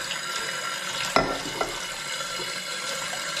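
Coffee pot being rinsed with water, a steady close hiss of running water with a sharp clatter of the pot early on and a few smaller knocks.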